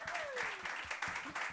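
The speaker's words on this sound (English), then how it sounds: "Did we give Jeana a round of applause?" A live-session audience at a brewery claps for vocalist Jeana Leslie, a brief burst of rhythmic, fairly close applause with a voice faintly over it.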